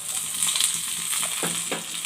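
Tempering with curry leaves sizzles steadily in a pan for sorghum pulihora, with a spoon scraping and stirring through the constant crackle near the end.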